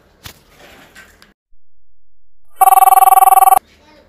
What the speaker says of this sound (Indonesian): Aduh, telepon lu ayah, Nen.